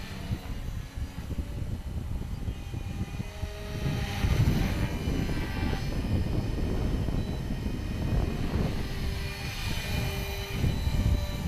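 A brushless Blade mCPX RC helicopter flies outdoors on a windy day, its faint rotor whine and motor hum steady throughout, largely buried under heavy wind rumble.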